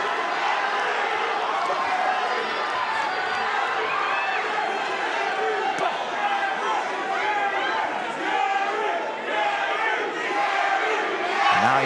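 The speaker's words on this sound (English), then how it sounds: "The crowd's getting into it, cheering on both guys." A boxing arena crowd at the Magsayo versus Russell title fight roars continuously, with loud shouts and cheers rising and falling in a dense, sustained din.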